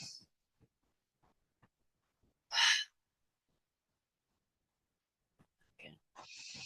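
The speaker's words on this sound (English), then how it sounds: "Take a breath in." A single deep breath drawn in during a guided breathwork and meditation session: one brief, fairly loud airy rush close to the listener, with near silence and faint small sounds around it.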